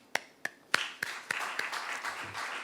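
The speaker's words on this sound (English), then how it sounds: "I think that deserves a clap" Audience at an African Development Bank economic outlook launch breaking into applause, starting with a few separate sharp claps that quickly build into a steady ripple of clapping from a modest crowd.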